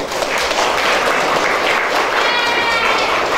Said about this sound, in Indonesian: Luar biasa, aplaus buat Ning Bella.